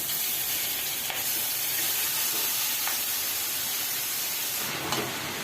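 Grated ginger and naga chili hit a hot wok, giving a steady broadband sizzle and hiss throughout with a few brief bursts of spattering.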